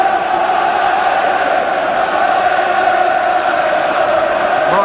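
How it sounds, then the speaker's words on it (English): A stadium crowd of about 45,000 football fans at an FA Cup semi-final between QPR and West Brom, Albion supporters applauding, forms a steady, loud wash of cheering and clapping that holds evenly throughout. "Applause for Albion from their fans among a crowd of"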